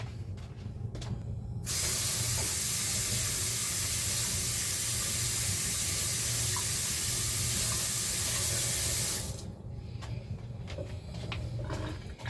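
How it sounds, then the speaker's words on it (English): Gloved hands rinsed under a running kitchen tap while preparing meatloaf: a loud, steady hiss of water starts abruptly, runs for about seven and a half seconds, then cuts off, with faint handling noises before and after. "Let me rinse my gloves off."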